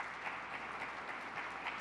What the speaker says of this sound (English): Let's give a round of applause for